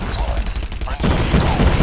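Brief bursts of HG-40 submachine gunfire in the mobile shooter COD Mobile during a ranked match, rapid shots rattling for under two seconds while someone talks over them.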